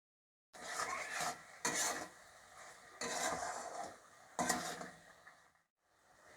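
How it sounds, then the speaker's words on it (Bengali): A spice paste with salt and sugar scraped and stirred in a pan, several rhythmic bursts of rasping spoon-on-pan rubbing separated by short pauses, fairly quiet and close, with no talking. "চিনি আর নুন দেওয়ার পর মশলাটা আমি একটু মিশিয়ে নেব।"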